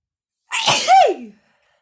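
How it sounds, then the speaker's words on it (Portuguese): A single loud sneeze, close by, sharp and brief, with no talking around it. "Vou espirrar."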